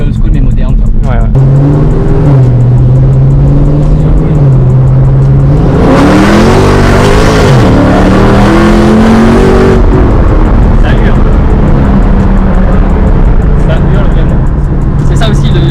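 A 2019 Dodge Challenger R/T V8 revs hard, the engine note climbing and falling in a loud surge mid-clip, with idle rumble before and after and people talking over it.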